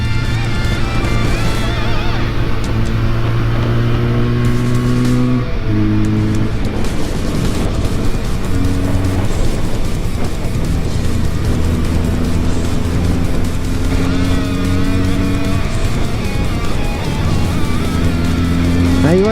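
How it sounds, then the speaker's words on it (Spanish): A Benelli 302c motorcycle engine, ridden uphill, drones loud and close throughout, its pitch dropping in steps with each downshift before climbing again as it pulls under load. "La reducción de marchas es buena."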